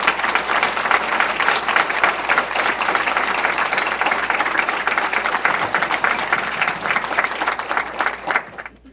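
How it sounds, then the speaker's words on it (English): An audience at a United Way kickoff event applauds: dense, sustained clapping from a large crowd fills nearly nine seconds at an even, loud level before tapering off at the very end. "And I think we owe them a big round of applause for coming and sharing with us today."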